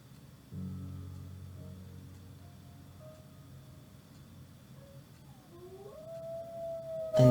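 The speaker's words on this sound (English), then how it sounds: "the song oddly ended with the sound of a wolf howling" A wolf howl rises slowly near the end after a low, rumbling stretch, a single lone wavering call that swells louder at the close.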